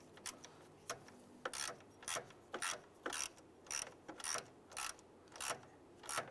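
Ratchet snugging down a bolt on the water pump shroud of a Ford Explorer, a dozen or so crisp clicking strokes in a steady back-and-forth rhythm, close and fairly quiet with no talk.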